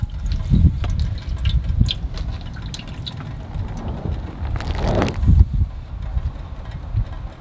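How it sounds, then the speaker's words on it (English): Transmission fluid pours and drips out of a Ford 4R100 valve body as it comes off during a teardown, an uneven liquid splashing close by, strongest midway, with clanks of handling around it. "it's gonna pour some fluid"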